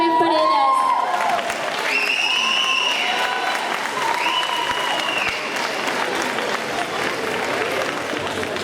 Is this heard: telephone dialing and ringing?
no